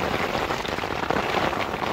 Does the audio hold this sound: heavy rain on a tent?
yes